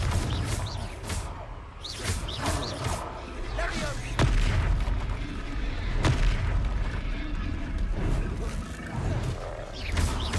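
A Confringo spell explosion in a video game booms amid ongoing battle noise, a dense rumbling wash with sharper blasts cutting through, and a voice shouts the spell name over the clamor.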